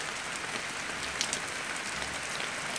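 Steady rain falls outdoors, a continuous close hiss of drops pattering on surfaces with a few louder splashes, no voices.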